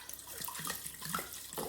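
Tap water runs into a cooking pot for a Thai chicken soup stock, a steady close splashing stream with faint bursts of voice in the background.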